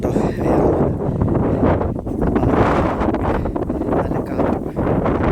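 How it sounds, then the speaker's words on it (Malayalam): Strong wind gusts across a rocky hilltop, buffeting the microphone in a loud, continuous roar that rises and falls. "നല്ല കാറ്റ്"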